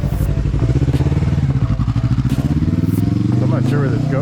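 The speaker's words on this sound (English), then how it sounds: "there's a guy coming down on his motorcycle" A motorcycle engine runs close by on a Bangkok street, a steady buzzing drone that stays loud throughout as the bike comes down the road, with a voice talking over it.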